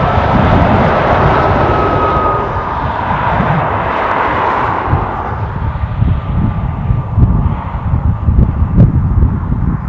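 An Aer Lingus Airbus A330 on approach to Dublin Airport, arriving from San Francisco: a loud, continuous broadband engine roar with a thin whining tone running through it, easing slightly in the second half, with no voices.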